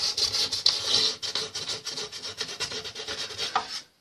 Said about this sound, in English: Just sanding a little bit between coats